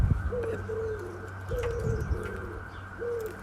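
A pet bird cooing indoors, three close, soft repeated coos in an even rhythm over a low household hum.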